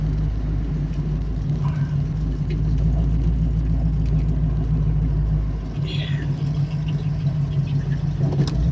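A Ford Mustang with a modified 351 Cleveland V8 runs nearby with a deep, steady idle rumble and a brief rise in revs toward the end; faint voices may sit under it.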